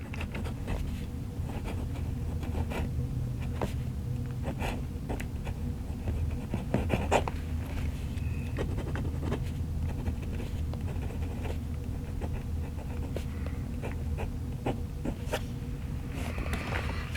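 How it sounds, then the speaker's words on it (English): A smooth fountain pen nib lays Hero black ink onto Fabriano paper, giving soft, close scratchy strokes and light taps in an irregular rhythm over a quiet background. "I think we need to put some more of that Hero black ink down on this Fabriano paper."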